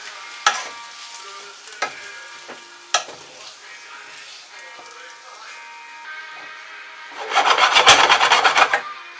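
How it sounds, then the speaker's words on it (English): Bacon fries slowly in a pan with a soft steady sizzle. A few sharp clacks of a utensil against the pan come early, and a louder burst of scraping and stirring follows near the end. Speech is faintly present in places. "try to fry the bacon evenly and slow"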